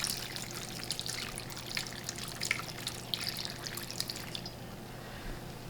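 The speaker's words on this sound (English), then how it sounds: "I am going to add my vegetable broth" Vegetable broth is poured gently into a cooking pot for an autumn harvest soup, making a steady close trickle and splash that tapers off near the end.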